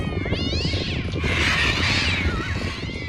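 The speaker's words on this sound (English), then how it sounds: "the cats roared their war cry" Several cats yowl and caterwaul loudly together, drawn-out wavering cries rising and falling over a noisy background.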